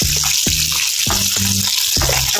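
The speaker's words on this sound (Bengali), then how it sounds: "আমার আরেক কিছু ভাজা হয়ে গেল" Food fries in a pan with a steady, close sizzling hiss. Several short, louder clatters or bursts break through it at irregular intervals.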